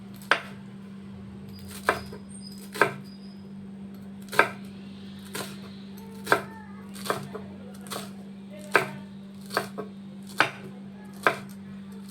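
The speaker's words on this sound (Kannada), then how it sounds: "ಕಟ್ ಮಾಡಿ ತುಂಬ ಸಣ್ಣದಾಗಿ ಕಟ್ ಮಾಡಾಕಣ" Knife chopping greens finely on a board for masala akki rotti, a steady run of about a dozen crisp, separate thuds spaced roughly a second apart, close by, over a constant low hum.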